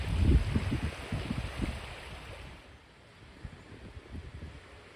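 Wind blows along a trail beside open water, gusty low buffeting that is strongest at first and then eases into a softer rustling rush, with no voices.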